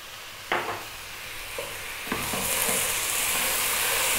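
Lentil dal with turmeric, cumin, chili and coriander stirred over fairly high heat: a few distinct spoon scrapes early on, then a steady, rising sizzle with hiss continuing to the end, close and moderately loud, no talking.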